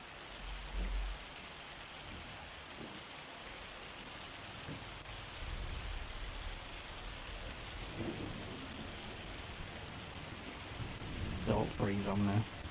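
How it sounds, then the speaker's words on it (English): Rain falls steadily in a Farming Simulator 25 thunderstorm, a dense hiss with low thunder rumbling underneath and a brief voice near the end. "Can hear the rain."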